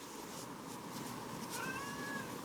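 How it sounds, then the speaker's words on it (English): A female house cat meows in the background, a drawn-out vocal cry rising over steady, loud background noise, with no speech over it. "You may hear Mama Kitty in the background. She's being very vocal today"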